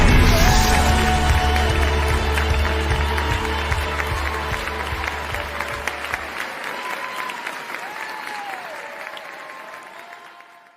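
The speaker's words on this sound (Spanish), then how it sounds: "Vamos a darle un aplauso una vez más al Señor Jesús" A church congregation at a Sunday service in Mexico City claps loudly and steadily, with a few cheers and whoops. A sustained organ or keyboard chord lingers underneath, and the applause tapers off gradually toward the end.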